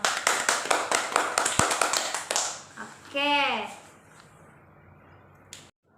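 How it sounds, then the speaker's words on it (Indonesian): Classroom of children clapping hands in a quick burst of repeated claps for about two seconds, then a short rising vocal sound and quiet room tone. "Tepuk tangan dulu dong"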